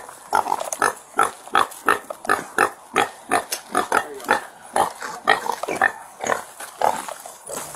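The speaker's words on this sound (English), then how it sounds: "the pigs lived in the yard behind the apartment complex" Pigs kept in a yard behind an apartment complex grunt in a steady run of short, rhythmic snorts and oinks, close and fairly loud, with no talking over them.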